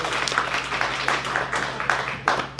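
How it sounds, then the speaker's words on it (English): Brief round of applause from a meetup audience in a room, a crowd's scattered steady clapping with a few sharper individual claps standing out, moderately loud throughout. "I do also want to ask for a round of applause for the person that set all this up."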